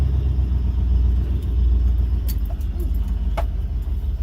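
A Dodge Ramcharger's engine running as the truck drives through weeds, a loud steady low rumble close by, with a few brief scrapes and rustles over it.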